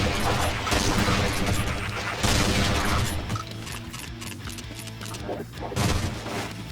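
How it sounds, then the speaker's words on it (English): Shotgun fire in Brutal Half-Life crashes out in loud, dense blasts that run almost without pause through a heavy, continuous game soundscape. "the shotgun functions the same exact way, except for it has an animation and sound improvement and just sounds a lot more visceral"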